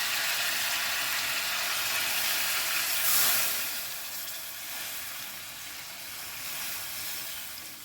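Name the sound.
water being poured into a soup pot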